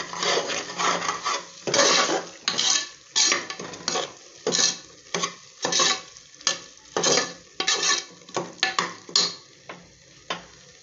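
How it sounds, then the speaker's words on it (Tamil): A spoon scrapes and stirs garam masala in hot oil in a metal pan, each loud close stroke coming in a steady rhythm of repeated rasping sweeps, with no talking. "இது மசாலாலாம் அப்படியே இந்த எண்ணெயிலே வதக்குவோம் நம்ம"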